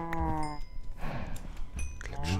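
Cattle mooing in the game Minecraft: several drawn-out moos with clear harmonic tones, one starting the clip and another at the end, with a brief scuffle of game noise between them.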